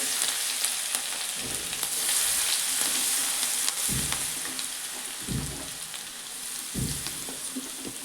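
Garlic and green chilies fry in hot oil with cumin and asafoetida for a leafy vegetable dish. A loud, continuous hiss runs throughout, broken by a few low thuds and scrapes from stirring.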